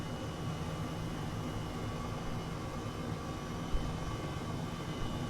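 H135 helicopter taxiing near a runway in Microsoft Flight Simulator, out toward the Beatrice Wind Farm from Wick, a steady broadband engine and rotor drone held at an even level throughout, no talk.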